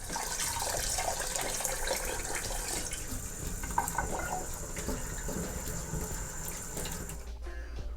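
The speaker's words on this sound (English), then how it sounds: "We're going to rinse it a couple times and then start it." Tap water splashes over basmati rice in a stainless steel Aroma rice cooker pot, a steady close rushing and sloshing that runs for several seconds before abruptly cutting off near the end, without talking.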